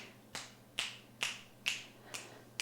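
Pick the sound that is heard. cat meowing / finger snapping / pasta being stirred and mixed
finger snapping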